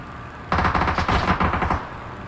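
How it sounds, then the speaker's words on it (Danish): Rapid automatic gunfire from the battle royale game PUBG erupts after a brief quiet start, a dense, loud burst of overlapping shots that continues for most of the clip. "Nu bliver skudt efter. Jeg bliver også skudt efter."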